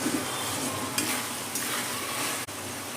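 Sliced tomato cooking with spice paste for a spicy red chicken curry, giving a steady close sizzle with a brief stirring scrape partway through and no voices.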